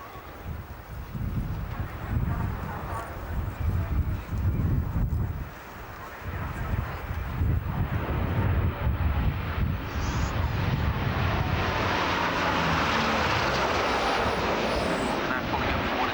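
Fixed-wing aircraft making a high-speed fly past at a 1993 air display at North Weald, a loud broadband engine roar swelling and sustained, with wind noise.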